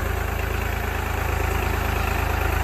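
A tractor idling in a farm field, its engine thrumming close by with a steady, even low pulse and a constant mechanical vibration, loud and unbroken with no talking.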